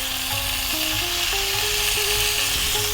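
Finely chopped white onion with salt sizzles in a pan over fairly high heat, a steady broadband hiss that holds throughout, with a faint tonal whine stepping upward in the background.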